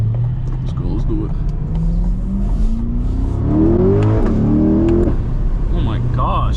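A C8 Corvette pulls hard on a Florida road, its engine note climbing through the revs in a rising, rumbling surge, with a shift mid-pull and a second climb, heard from inside with people talking over it.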